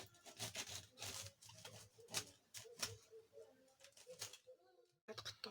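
A serrated knife saws through a loaf of whole wheat sandwich bread with flax, giving quiet, close, rhythmic rasping strokes that pause briefly near the end.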